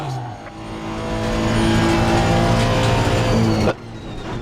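A race car engine from the racing game Assetto Corsa Competizione climbs steadily in pitch for about three seconds, then cuts off abruptly as it shifts or lifts.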